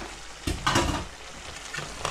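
Bottle gourd kofta balls dropped into sizzling spice paste in a pan, a few soft thuds and bursts of frying over a steady low sizzle, close by with no talking.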